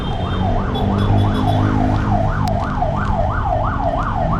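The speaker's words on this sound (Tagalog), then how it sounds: "so yan may ambulansya kailangan pa unahin natin yan" An ambulance siren wails, sweeping up and down in quick regular cycles over a loud rumbling motorcycle engine and road noise in rainy weather.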